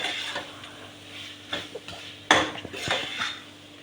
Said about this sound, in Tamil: கத்திரிக்காயும் அது கூடயே வதக்கிக்கலாம்.